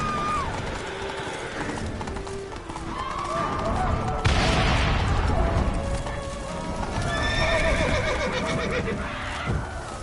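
Roach, a horse in the Witcher 3 video game, whinnies and snorts over steady clip-clopping hooves, with a loud burst midway and game music and effects layered underneath.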